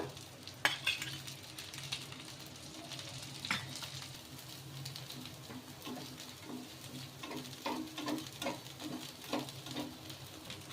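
Oil sizzling in a hot pan as an instant dosa cooks at medium heat: a steady, close crackle with scraping and stirring strokes over it, and no voices.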